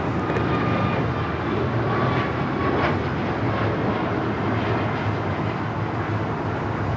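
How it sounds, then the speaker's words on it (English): Alaska Airlines Boeing 737 MAX 9 taking off from Los Angeles airport, a dense continuous engine roar with a faint high whine, steady and fairly close throughout, no voices. "1374 taking off to Loretto on the MAX 9"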